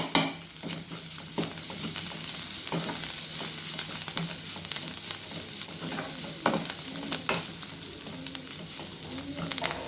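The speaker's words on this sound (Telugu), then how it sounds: "అల్లం వెల్లుల్లి పేస్ట్ అయితే పచ్చి వాసన పోయేంత వరకు అయితే మంచిగా ఫ్రై చేసుకోవాలండి" Ginger garlic paste frying and being stirred in a pan for a bottle gourd curry, with a steady close sizzle and repeated scraping stir strokes throughout.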